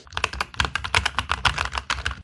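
Rapid, steady keystrokes on a HINATSUSIKE H83 PRO 75% wireless mechanical keyboard, close and fairly loud, with damped but distinctly clicky mechanical switches and no talking.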